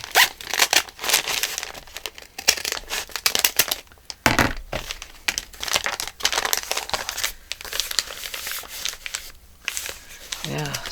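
Paper is cut for a handmade folio journal, producing crisp rustling, crinkling snips and shuffling handling noises close by, with a person talking over parts of it.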